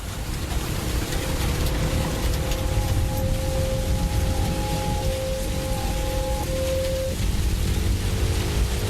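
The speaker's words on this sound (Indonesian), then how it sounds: "Saat itu hujan memang tidak reda sepenuhnya. Ya, masih gerimis kecil-kecil lah" Light evening drizzle makes a soft, steady, even hiss that carries on throughout, with a faint sustained tonal hum over it and no voices.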